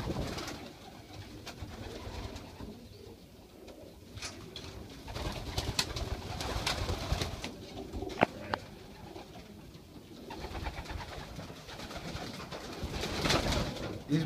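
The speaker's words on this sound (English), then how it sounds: "Beautiful pigeons." Young racing pigeons coo softly and repeatedly at close range, their low murmuring calls mixed with flutters and scuffs from a loft, with no talk.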